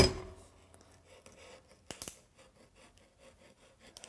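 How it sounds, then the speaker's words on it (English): A small razor scraper scrapes a sticker off a cast iron pan, giving faint close scratches and a few sharp scraping strokes, quiet with no talk. "I'm going to use this little razor scraper to get that off, hopefully easily without cutting myself."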